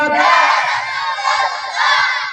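A large crowd at an Islamic sermon gathering (waz mahfil) roaring in unison in answer to the Takbir chant, a loud sustained collective shout that swells twice, with faint thumps underneath.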